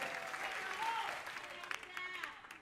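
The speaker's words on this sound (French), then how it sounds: "Rafiki, est-ce qu'on peut applaudir pour nos danseurs, s'il vous plaît?" Studio audience applauding for dancers on a Congolese gospel music TV show, a steady wash of clapping with a brief whistle-like tone and some voices mixed in.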